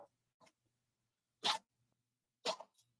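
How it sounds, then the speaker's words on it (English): Two short, sharp sneezes burst out about a second apart, with faint breathy sounds before them in an otherwise quiet room. "What are you sneezing about?"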